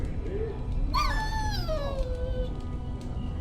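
A dog in Dragon Age: Origins gives a single drawn-out whimpering howl that slides downward in pitch, close and clear over a low rumbling background.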